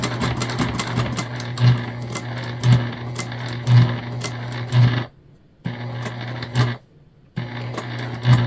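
A sewing machine stitches a bag in close, rhythmic runs with regular thumping pulses, pausing twice briefly before resuming.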